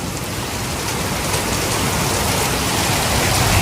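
Heavy rain pours down during a storm with hail in Uttar Gujarat, a dense, loud, continuous roar of drops drumming on surfaces.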